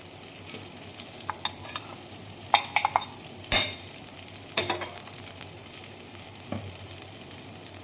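Pabda fish fry in oil with a continuous close sizzle, broken by a few sharp clinks and scrapes of a spatula against the pan, with no one speaking.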